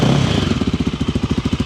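A Voge 300 Rally motorcycle engine catches with a brief starter whir and settles into a steady, close, loud single-cylinder putter.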